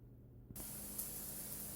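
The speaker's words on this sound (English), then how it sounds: "let that sweat and get sizzling" A quiet hum gives way to a sudden steady hiss of onions and red bell peppers sizzling in a pan, continuous and close, with no voices.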